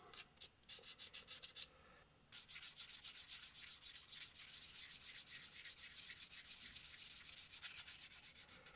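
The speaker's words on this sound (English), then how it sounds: "So the idea is sand it like crazy, sand, sand, sand, and then paint it and sand it like crazy." Sandpaper rubbed by hand over a carved model seaplane shape, starting with a few scattered strokes, then after a short pause settling into a fast, even back-and-forth rasp, close and continuous.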